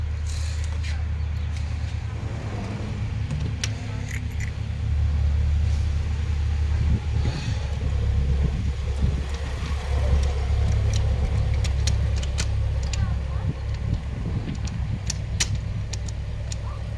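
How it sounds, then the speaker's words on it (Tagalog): Old vintage cars idling and running outside a lodge in the early morning, a steady low engine rumble with occasional revs, while someone talks over it. "mga sinaunang sasakyan guys."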